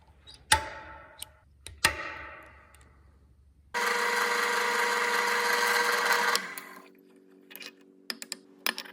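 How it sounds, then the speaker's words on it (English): A drill bores into the side of a metal plate for a belt grinder attachment, giving a steady grinding whine of about two and a half seconds, with sharp clicks and knocks before and after. "Now I just have to drill and tap holes into the side of this plate to bolt the holder sides on."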